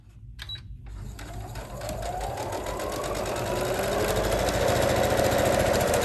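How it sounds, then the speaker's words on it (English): A sewing machine stitches around the back neckline facing of a garment, starting after a brief pause and speeding up into a steady, close whirring hum of rapid needle strokes. "So for each side of the back, I'm going to sew this round and then do a top stitch"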